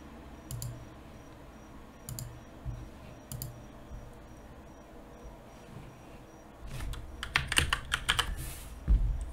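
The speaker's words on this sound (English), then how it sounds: "And we can just type in some terms." Search terms are typed on a computer keyboard in quiet, irregular bursts of clicking keystrokes, faint at first and then building into a denser, louder flurry of taps near the end, with no talk.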